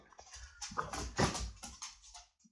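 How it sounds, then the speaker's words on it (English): Dogs scuffling in play-fight, with soft whimpers, yips and huffs coming in irregular bursts at close range, fairly quiet, ending in a brief yelp. "Ignore my dogs just fighting."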